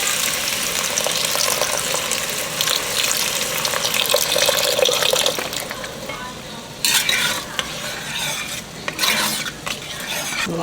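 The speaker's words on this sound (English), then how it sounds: "Now we're just going to add about a half a cup of beef broth until we get the consistency we like" Beef broth poured into a sizzling pan of Hamburger Helper noodles, a steady close frying hiss with stirring scrapes and liquid splashing, briefly settling before bursts of sizzle return.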